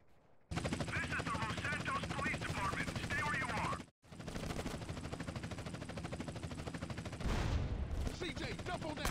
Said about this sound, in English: jump on that helicopter!